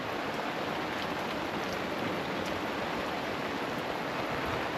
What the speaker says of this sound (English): but we are getting some rain, and I'm actually okay, because it's washing off the decks.